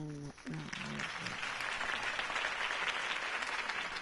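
Crowd applause for Harvey Dent's campaign speech in a Batman video game, a loud, steady wash of clapping that swells after a brief spoken line at the start and carries on to the end.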